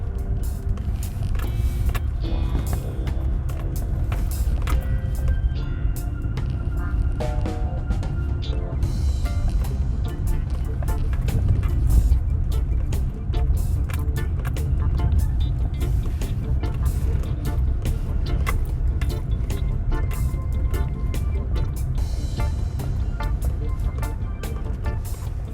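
A car drives through a residential scheme in Southfield, St. Elizabeth, Jamaica, making a left turn, with a steady low road and engine rumble running throughout at an even level.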